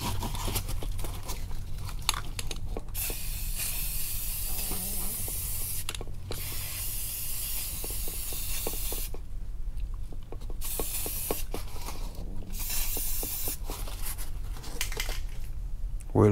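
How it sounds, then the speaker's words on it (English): Self-etching primer hisses from an aerosol spray can onto glazing putty on a car wheel, in close, loud bursts separated by short pauses. "I'm gonna spray some self-etching primer on my glazing pudding to seal it."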